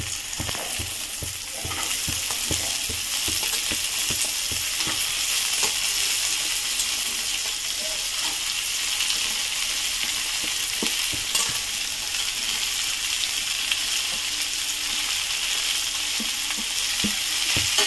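Chopped broad beans are sautéed in a pan for a poriyal, giving a loud, continuous sizzle with a scraping stir that knocks rhythmically at first and runs the whole time with no talking.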